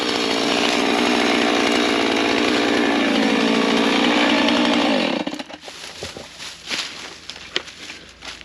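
A chainsaw cuts through wood close by, loud and steady for about five seconds before the cut ends, then fading to idle sputters, scattered knocks and footsteps.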